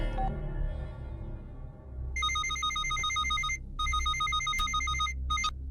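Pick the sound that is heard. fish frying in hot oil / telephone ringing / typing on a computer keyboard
telephone ringing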